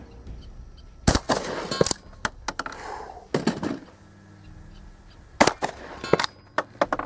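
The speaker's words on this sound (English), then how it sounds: "Shooting it from a Weatherby PA 459 smoothbore tactical shotgun" Weatherby PA-459 smoothbore tactical shotgun firing slugs outdoors: several sharp, loud blasts spaced irregularly across the stretch, each with a short echoing tail, plus some clattering handling noise between shots.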